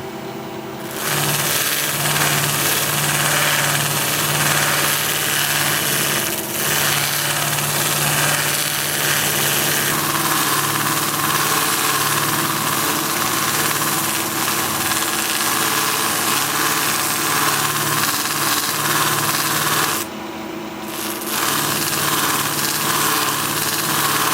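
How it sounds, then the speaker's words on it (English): A wood lathe spins at about 1100 RPM with a steady, loud motor whine and hum that holds unbroken for over twenty seconds, dipping briefly only near the start and end. "The lathe will be turning at about 1100 RPM."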